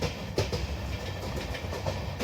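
Simhadri Express LHB rake rolling along, a steady broadband rumble with rhythmic wheel clatter over rail joints, fairly faint and without voices.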